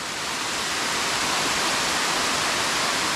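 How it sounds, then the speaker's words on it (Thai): The Tad Kon waterfall in Sone district, Houaphanh, roars as a steady, dense wash of falling water, loud and close, with no pauses or voices over it. "น้ำตกตัวสุดท้าย"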